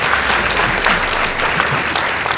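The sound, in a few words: audience applause at a school debate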